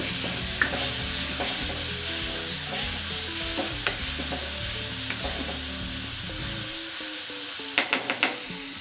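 Onions already sautéed, now with half a lemon squeezed in, being stirred in a pan: steady sizzling under repeated scraping strokes, ending with a few sharp clicks of the spoon against the pan.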